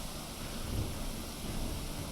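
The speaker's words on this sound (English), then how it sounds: "Oh, that's some hail too." A thunderstorm with heavy rain and hail makes a steady, dense roar of falling water, with a faint low rumble underneath and no speech.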